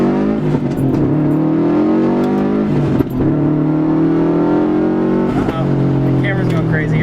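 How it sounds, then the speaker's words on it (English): A Subaru STI with a turbocharged engine accelerates from inside the car, its engine droning loudly and rising in pitch through several gear shifts, with brief dips between them. "The turbo spools quick."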